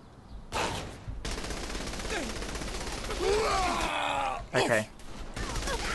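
Gunfire in Saints Row The Third erupts as a sustained fusillade of rapid shots, with a player's short remark and pained groans woven through the chaotic firefight.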